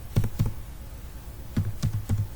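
Code typed on a computer keyboard in short bursts of quick, close key clicks, with a brief pause between the first and second flurry.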